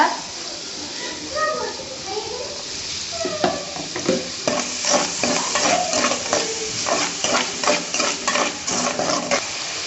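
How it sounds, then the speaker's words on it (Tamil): Finely chopped onions sizzle in a hot pan while a spoon stirs and scrapes in quick, repeated strokes, close and steady. "பொடியாக நறுக்கின வெங்காயத்தை நல்லா வதக்கிக்கோங்க."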